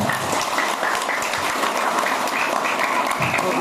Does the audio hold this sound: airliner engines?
no